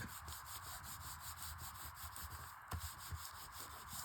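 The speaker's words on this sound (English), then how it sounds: "Give that a little bit of a rub down, just so that it's adhering everywhere." Steady rubbing and scraping as glued paper is pressed down on a paper bag mini notebook, a continuous close friction sound with a brief sharper scuff near the end.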